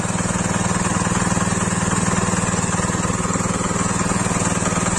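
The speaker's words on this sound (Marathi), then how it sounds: "तर पॉवर टेलर स्टार्ट होते मित्रांनो." A power tiller engine running steadily after starting, a loud, even, rapid mechanical chugging close by that holds without a break, with no talk.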